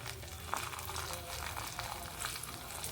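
Asafoetida dropped into hot oil while cooking gongura pulusu, a steady close frying sizzle with a faint stirring tick, running without a break and without talk.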